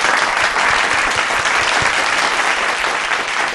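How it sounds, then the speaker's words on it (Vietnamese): Studio audience applause on the Vietnamese game show Đuổi Hình Bắt Chữ, a loud, dense, continuous burst of clapping close to the microphones, holding steady without voices. "Và tín hiệu mở miếng ghép đầu tiên là tràng vỗ tay của quý vị."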